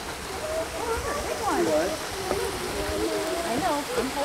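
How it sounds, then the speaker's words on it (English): A small waterfall at an Arizona campsite splashing and trickling in a steady wash, with faint birdlike chirps or squeaks over the flowing water. "Got this neat little waterfall right here."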